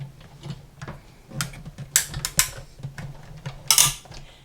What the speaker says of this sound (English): Then one cutting pad on top and crank it through the big shot.